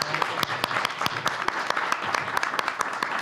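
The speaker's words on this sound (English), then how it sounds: "let's give her a nice round of applause" Round of applause for New York Governor Kathy Hochul at a roundtable on cell phones in schools, a modest crowd clapping close by with sharp individual claps standing out through a steady patter.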